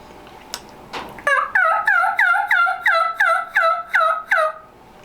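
A worn turkey mouth call gives a series of about ten clean, evenly spaced yelps with no rasp, loud and close, preceded by a couple of faint clicks and no speech.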